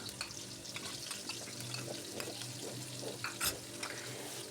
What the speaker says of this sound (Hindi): कढ़ाई में ऑयल डालकर गरम कर लिया है तो अब हम इसमें प्याज डाल देंगे